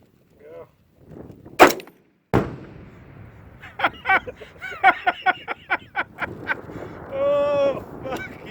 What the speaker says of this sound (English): we're gonna start shooting